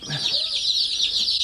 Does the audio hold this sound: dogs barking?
no